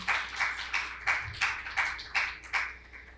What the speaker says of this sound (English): Big round of applause for Thiago and Bruno.